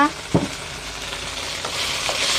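Crispy pork and holy basil stir-frying in a hot pan, with a steady sizzle, a sharp scrape or clatter near the start and a few softer stirring strokes after, close and with no voices.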